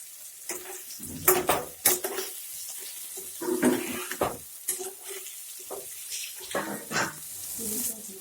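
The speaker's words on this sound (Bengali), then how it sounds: "পেঁয়াজটা ভাজা হয়ে গেছে" Onions sizzling in a pan with green chillies for a chicken curry, frying under repeated stirring and scraping clatter, with a few louder knocks of the spoon against the pan.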